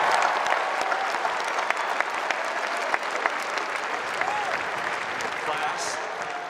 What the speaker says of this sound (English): A round of applause for those three classes.